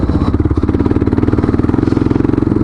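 A Kawasaki KLR motorcycle rides a rutted loose gravel and rock trail, its single-cylinder engine thumping loud and close in a fast, even pulse with rattling and clatter from the bumpy ground and no speech.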